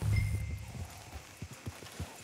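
Horse hooves clip-clopping in the western video game Red Dead Redemption 2, a few soft, spaced thuds at moderate distance.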